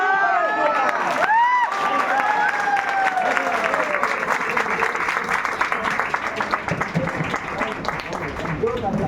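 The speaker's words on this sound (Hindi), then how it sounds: "जबरदस्त ताली बजा कर देंगे।" A crowd at a leadership training meeting claps steadily in dense applause, with cheering and shouted voices over it and a loud whistle-like cry early on.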